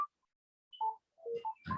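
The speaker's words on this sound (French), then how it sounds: "je vais couper le téléphone." A landline telephone in a home gives a few short, clear electronic beeps as it is switched off, with brief silent gaps between the tones at moderate volume.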